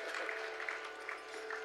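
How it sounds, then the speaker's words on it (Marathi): An audience claps at a Marathi bhajan concert, steady and fairly soft, heard from a little distance with a musical tone running under it. "अरे जोरात टाळ्या वाजवा"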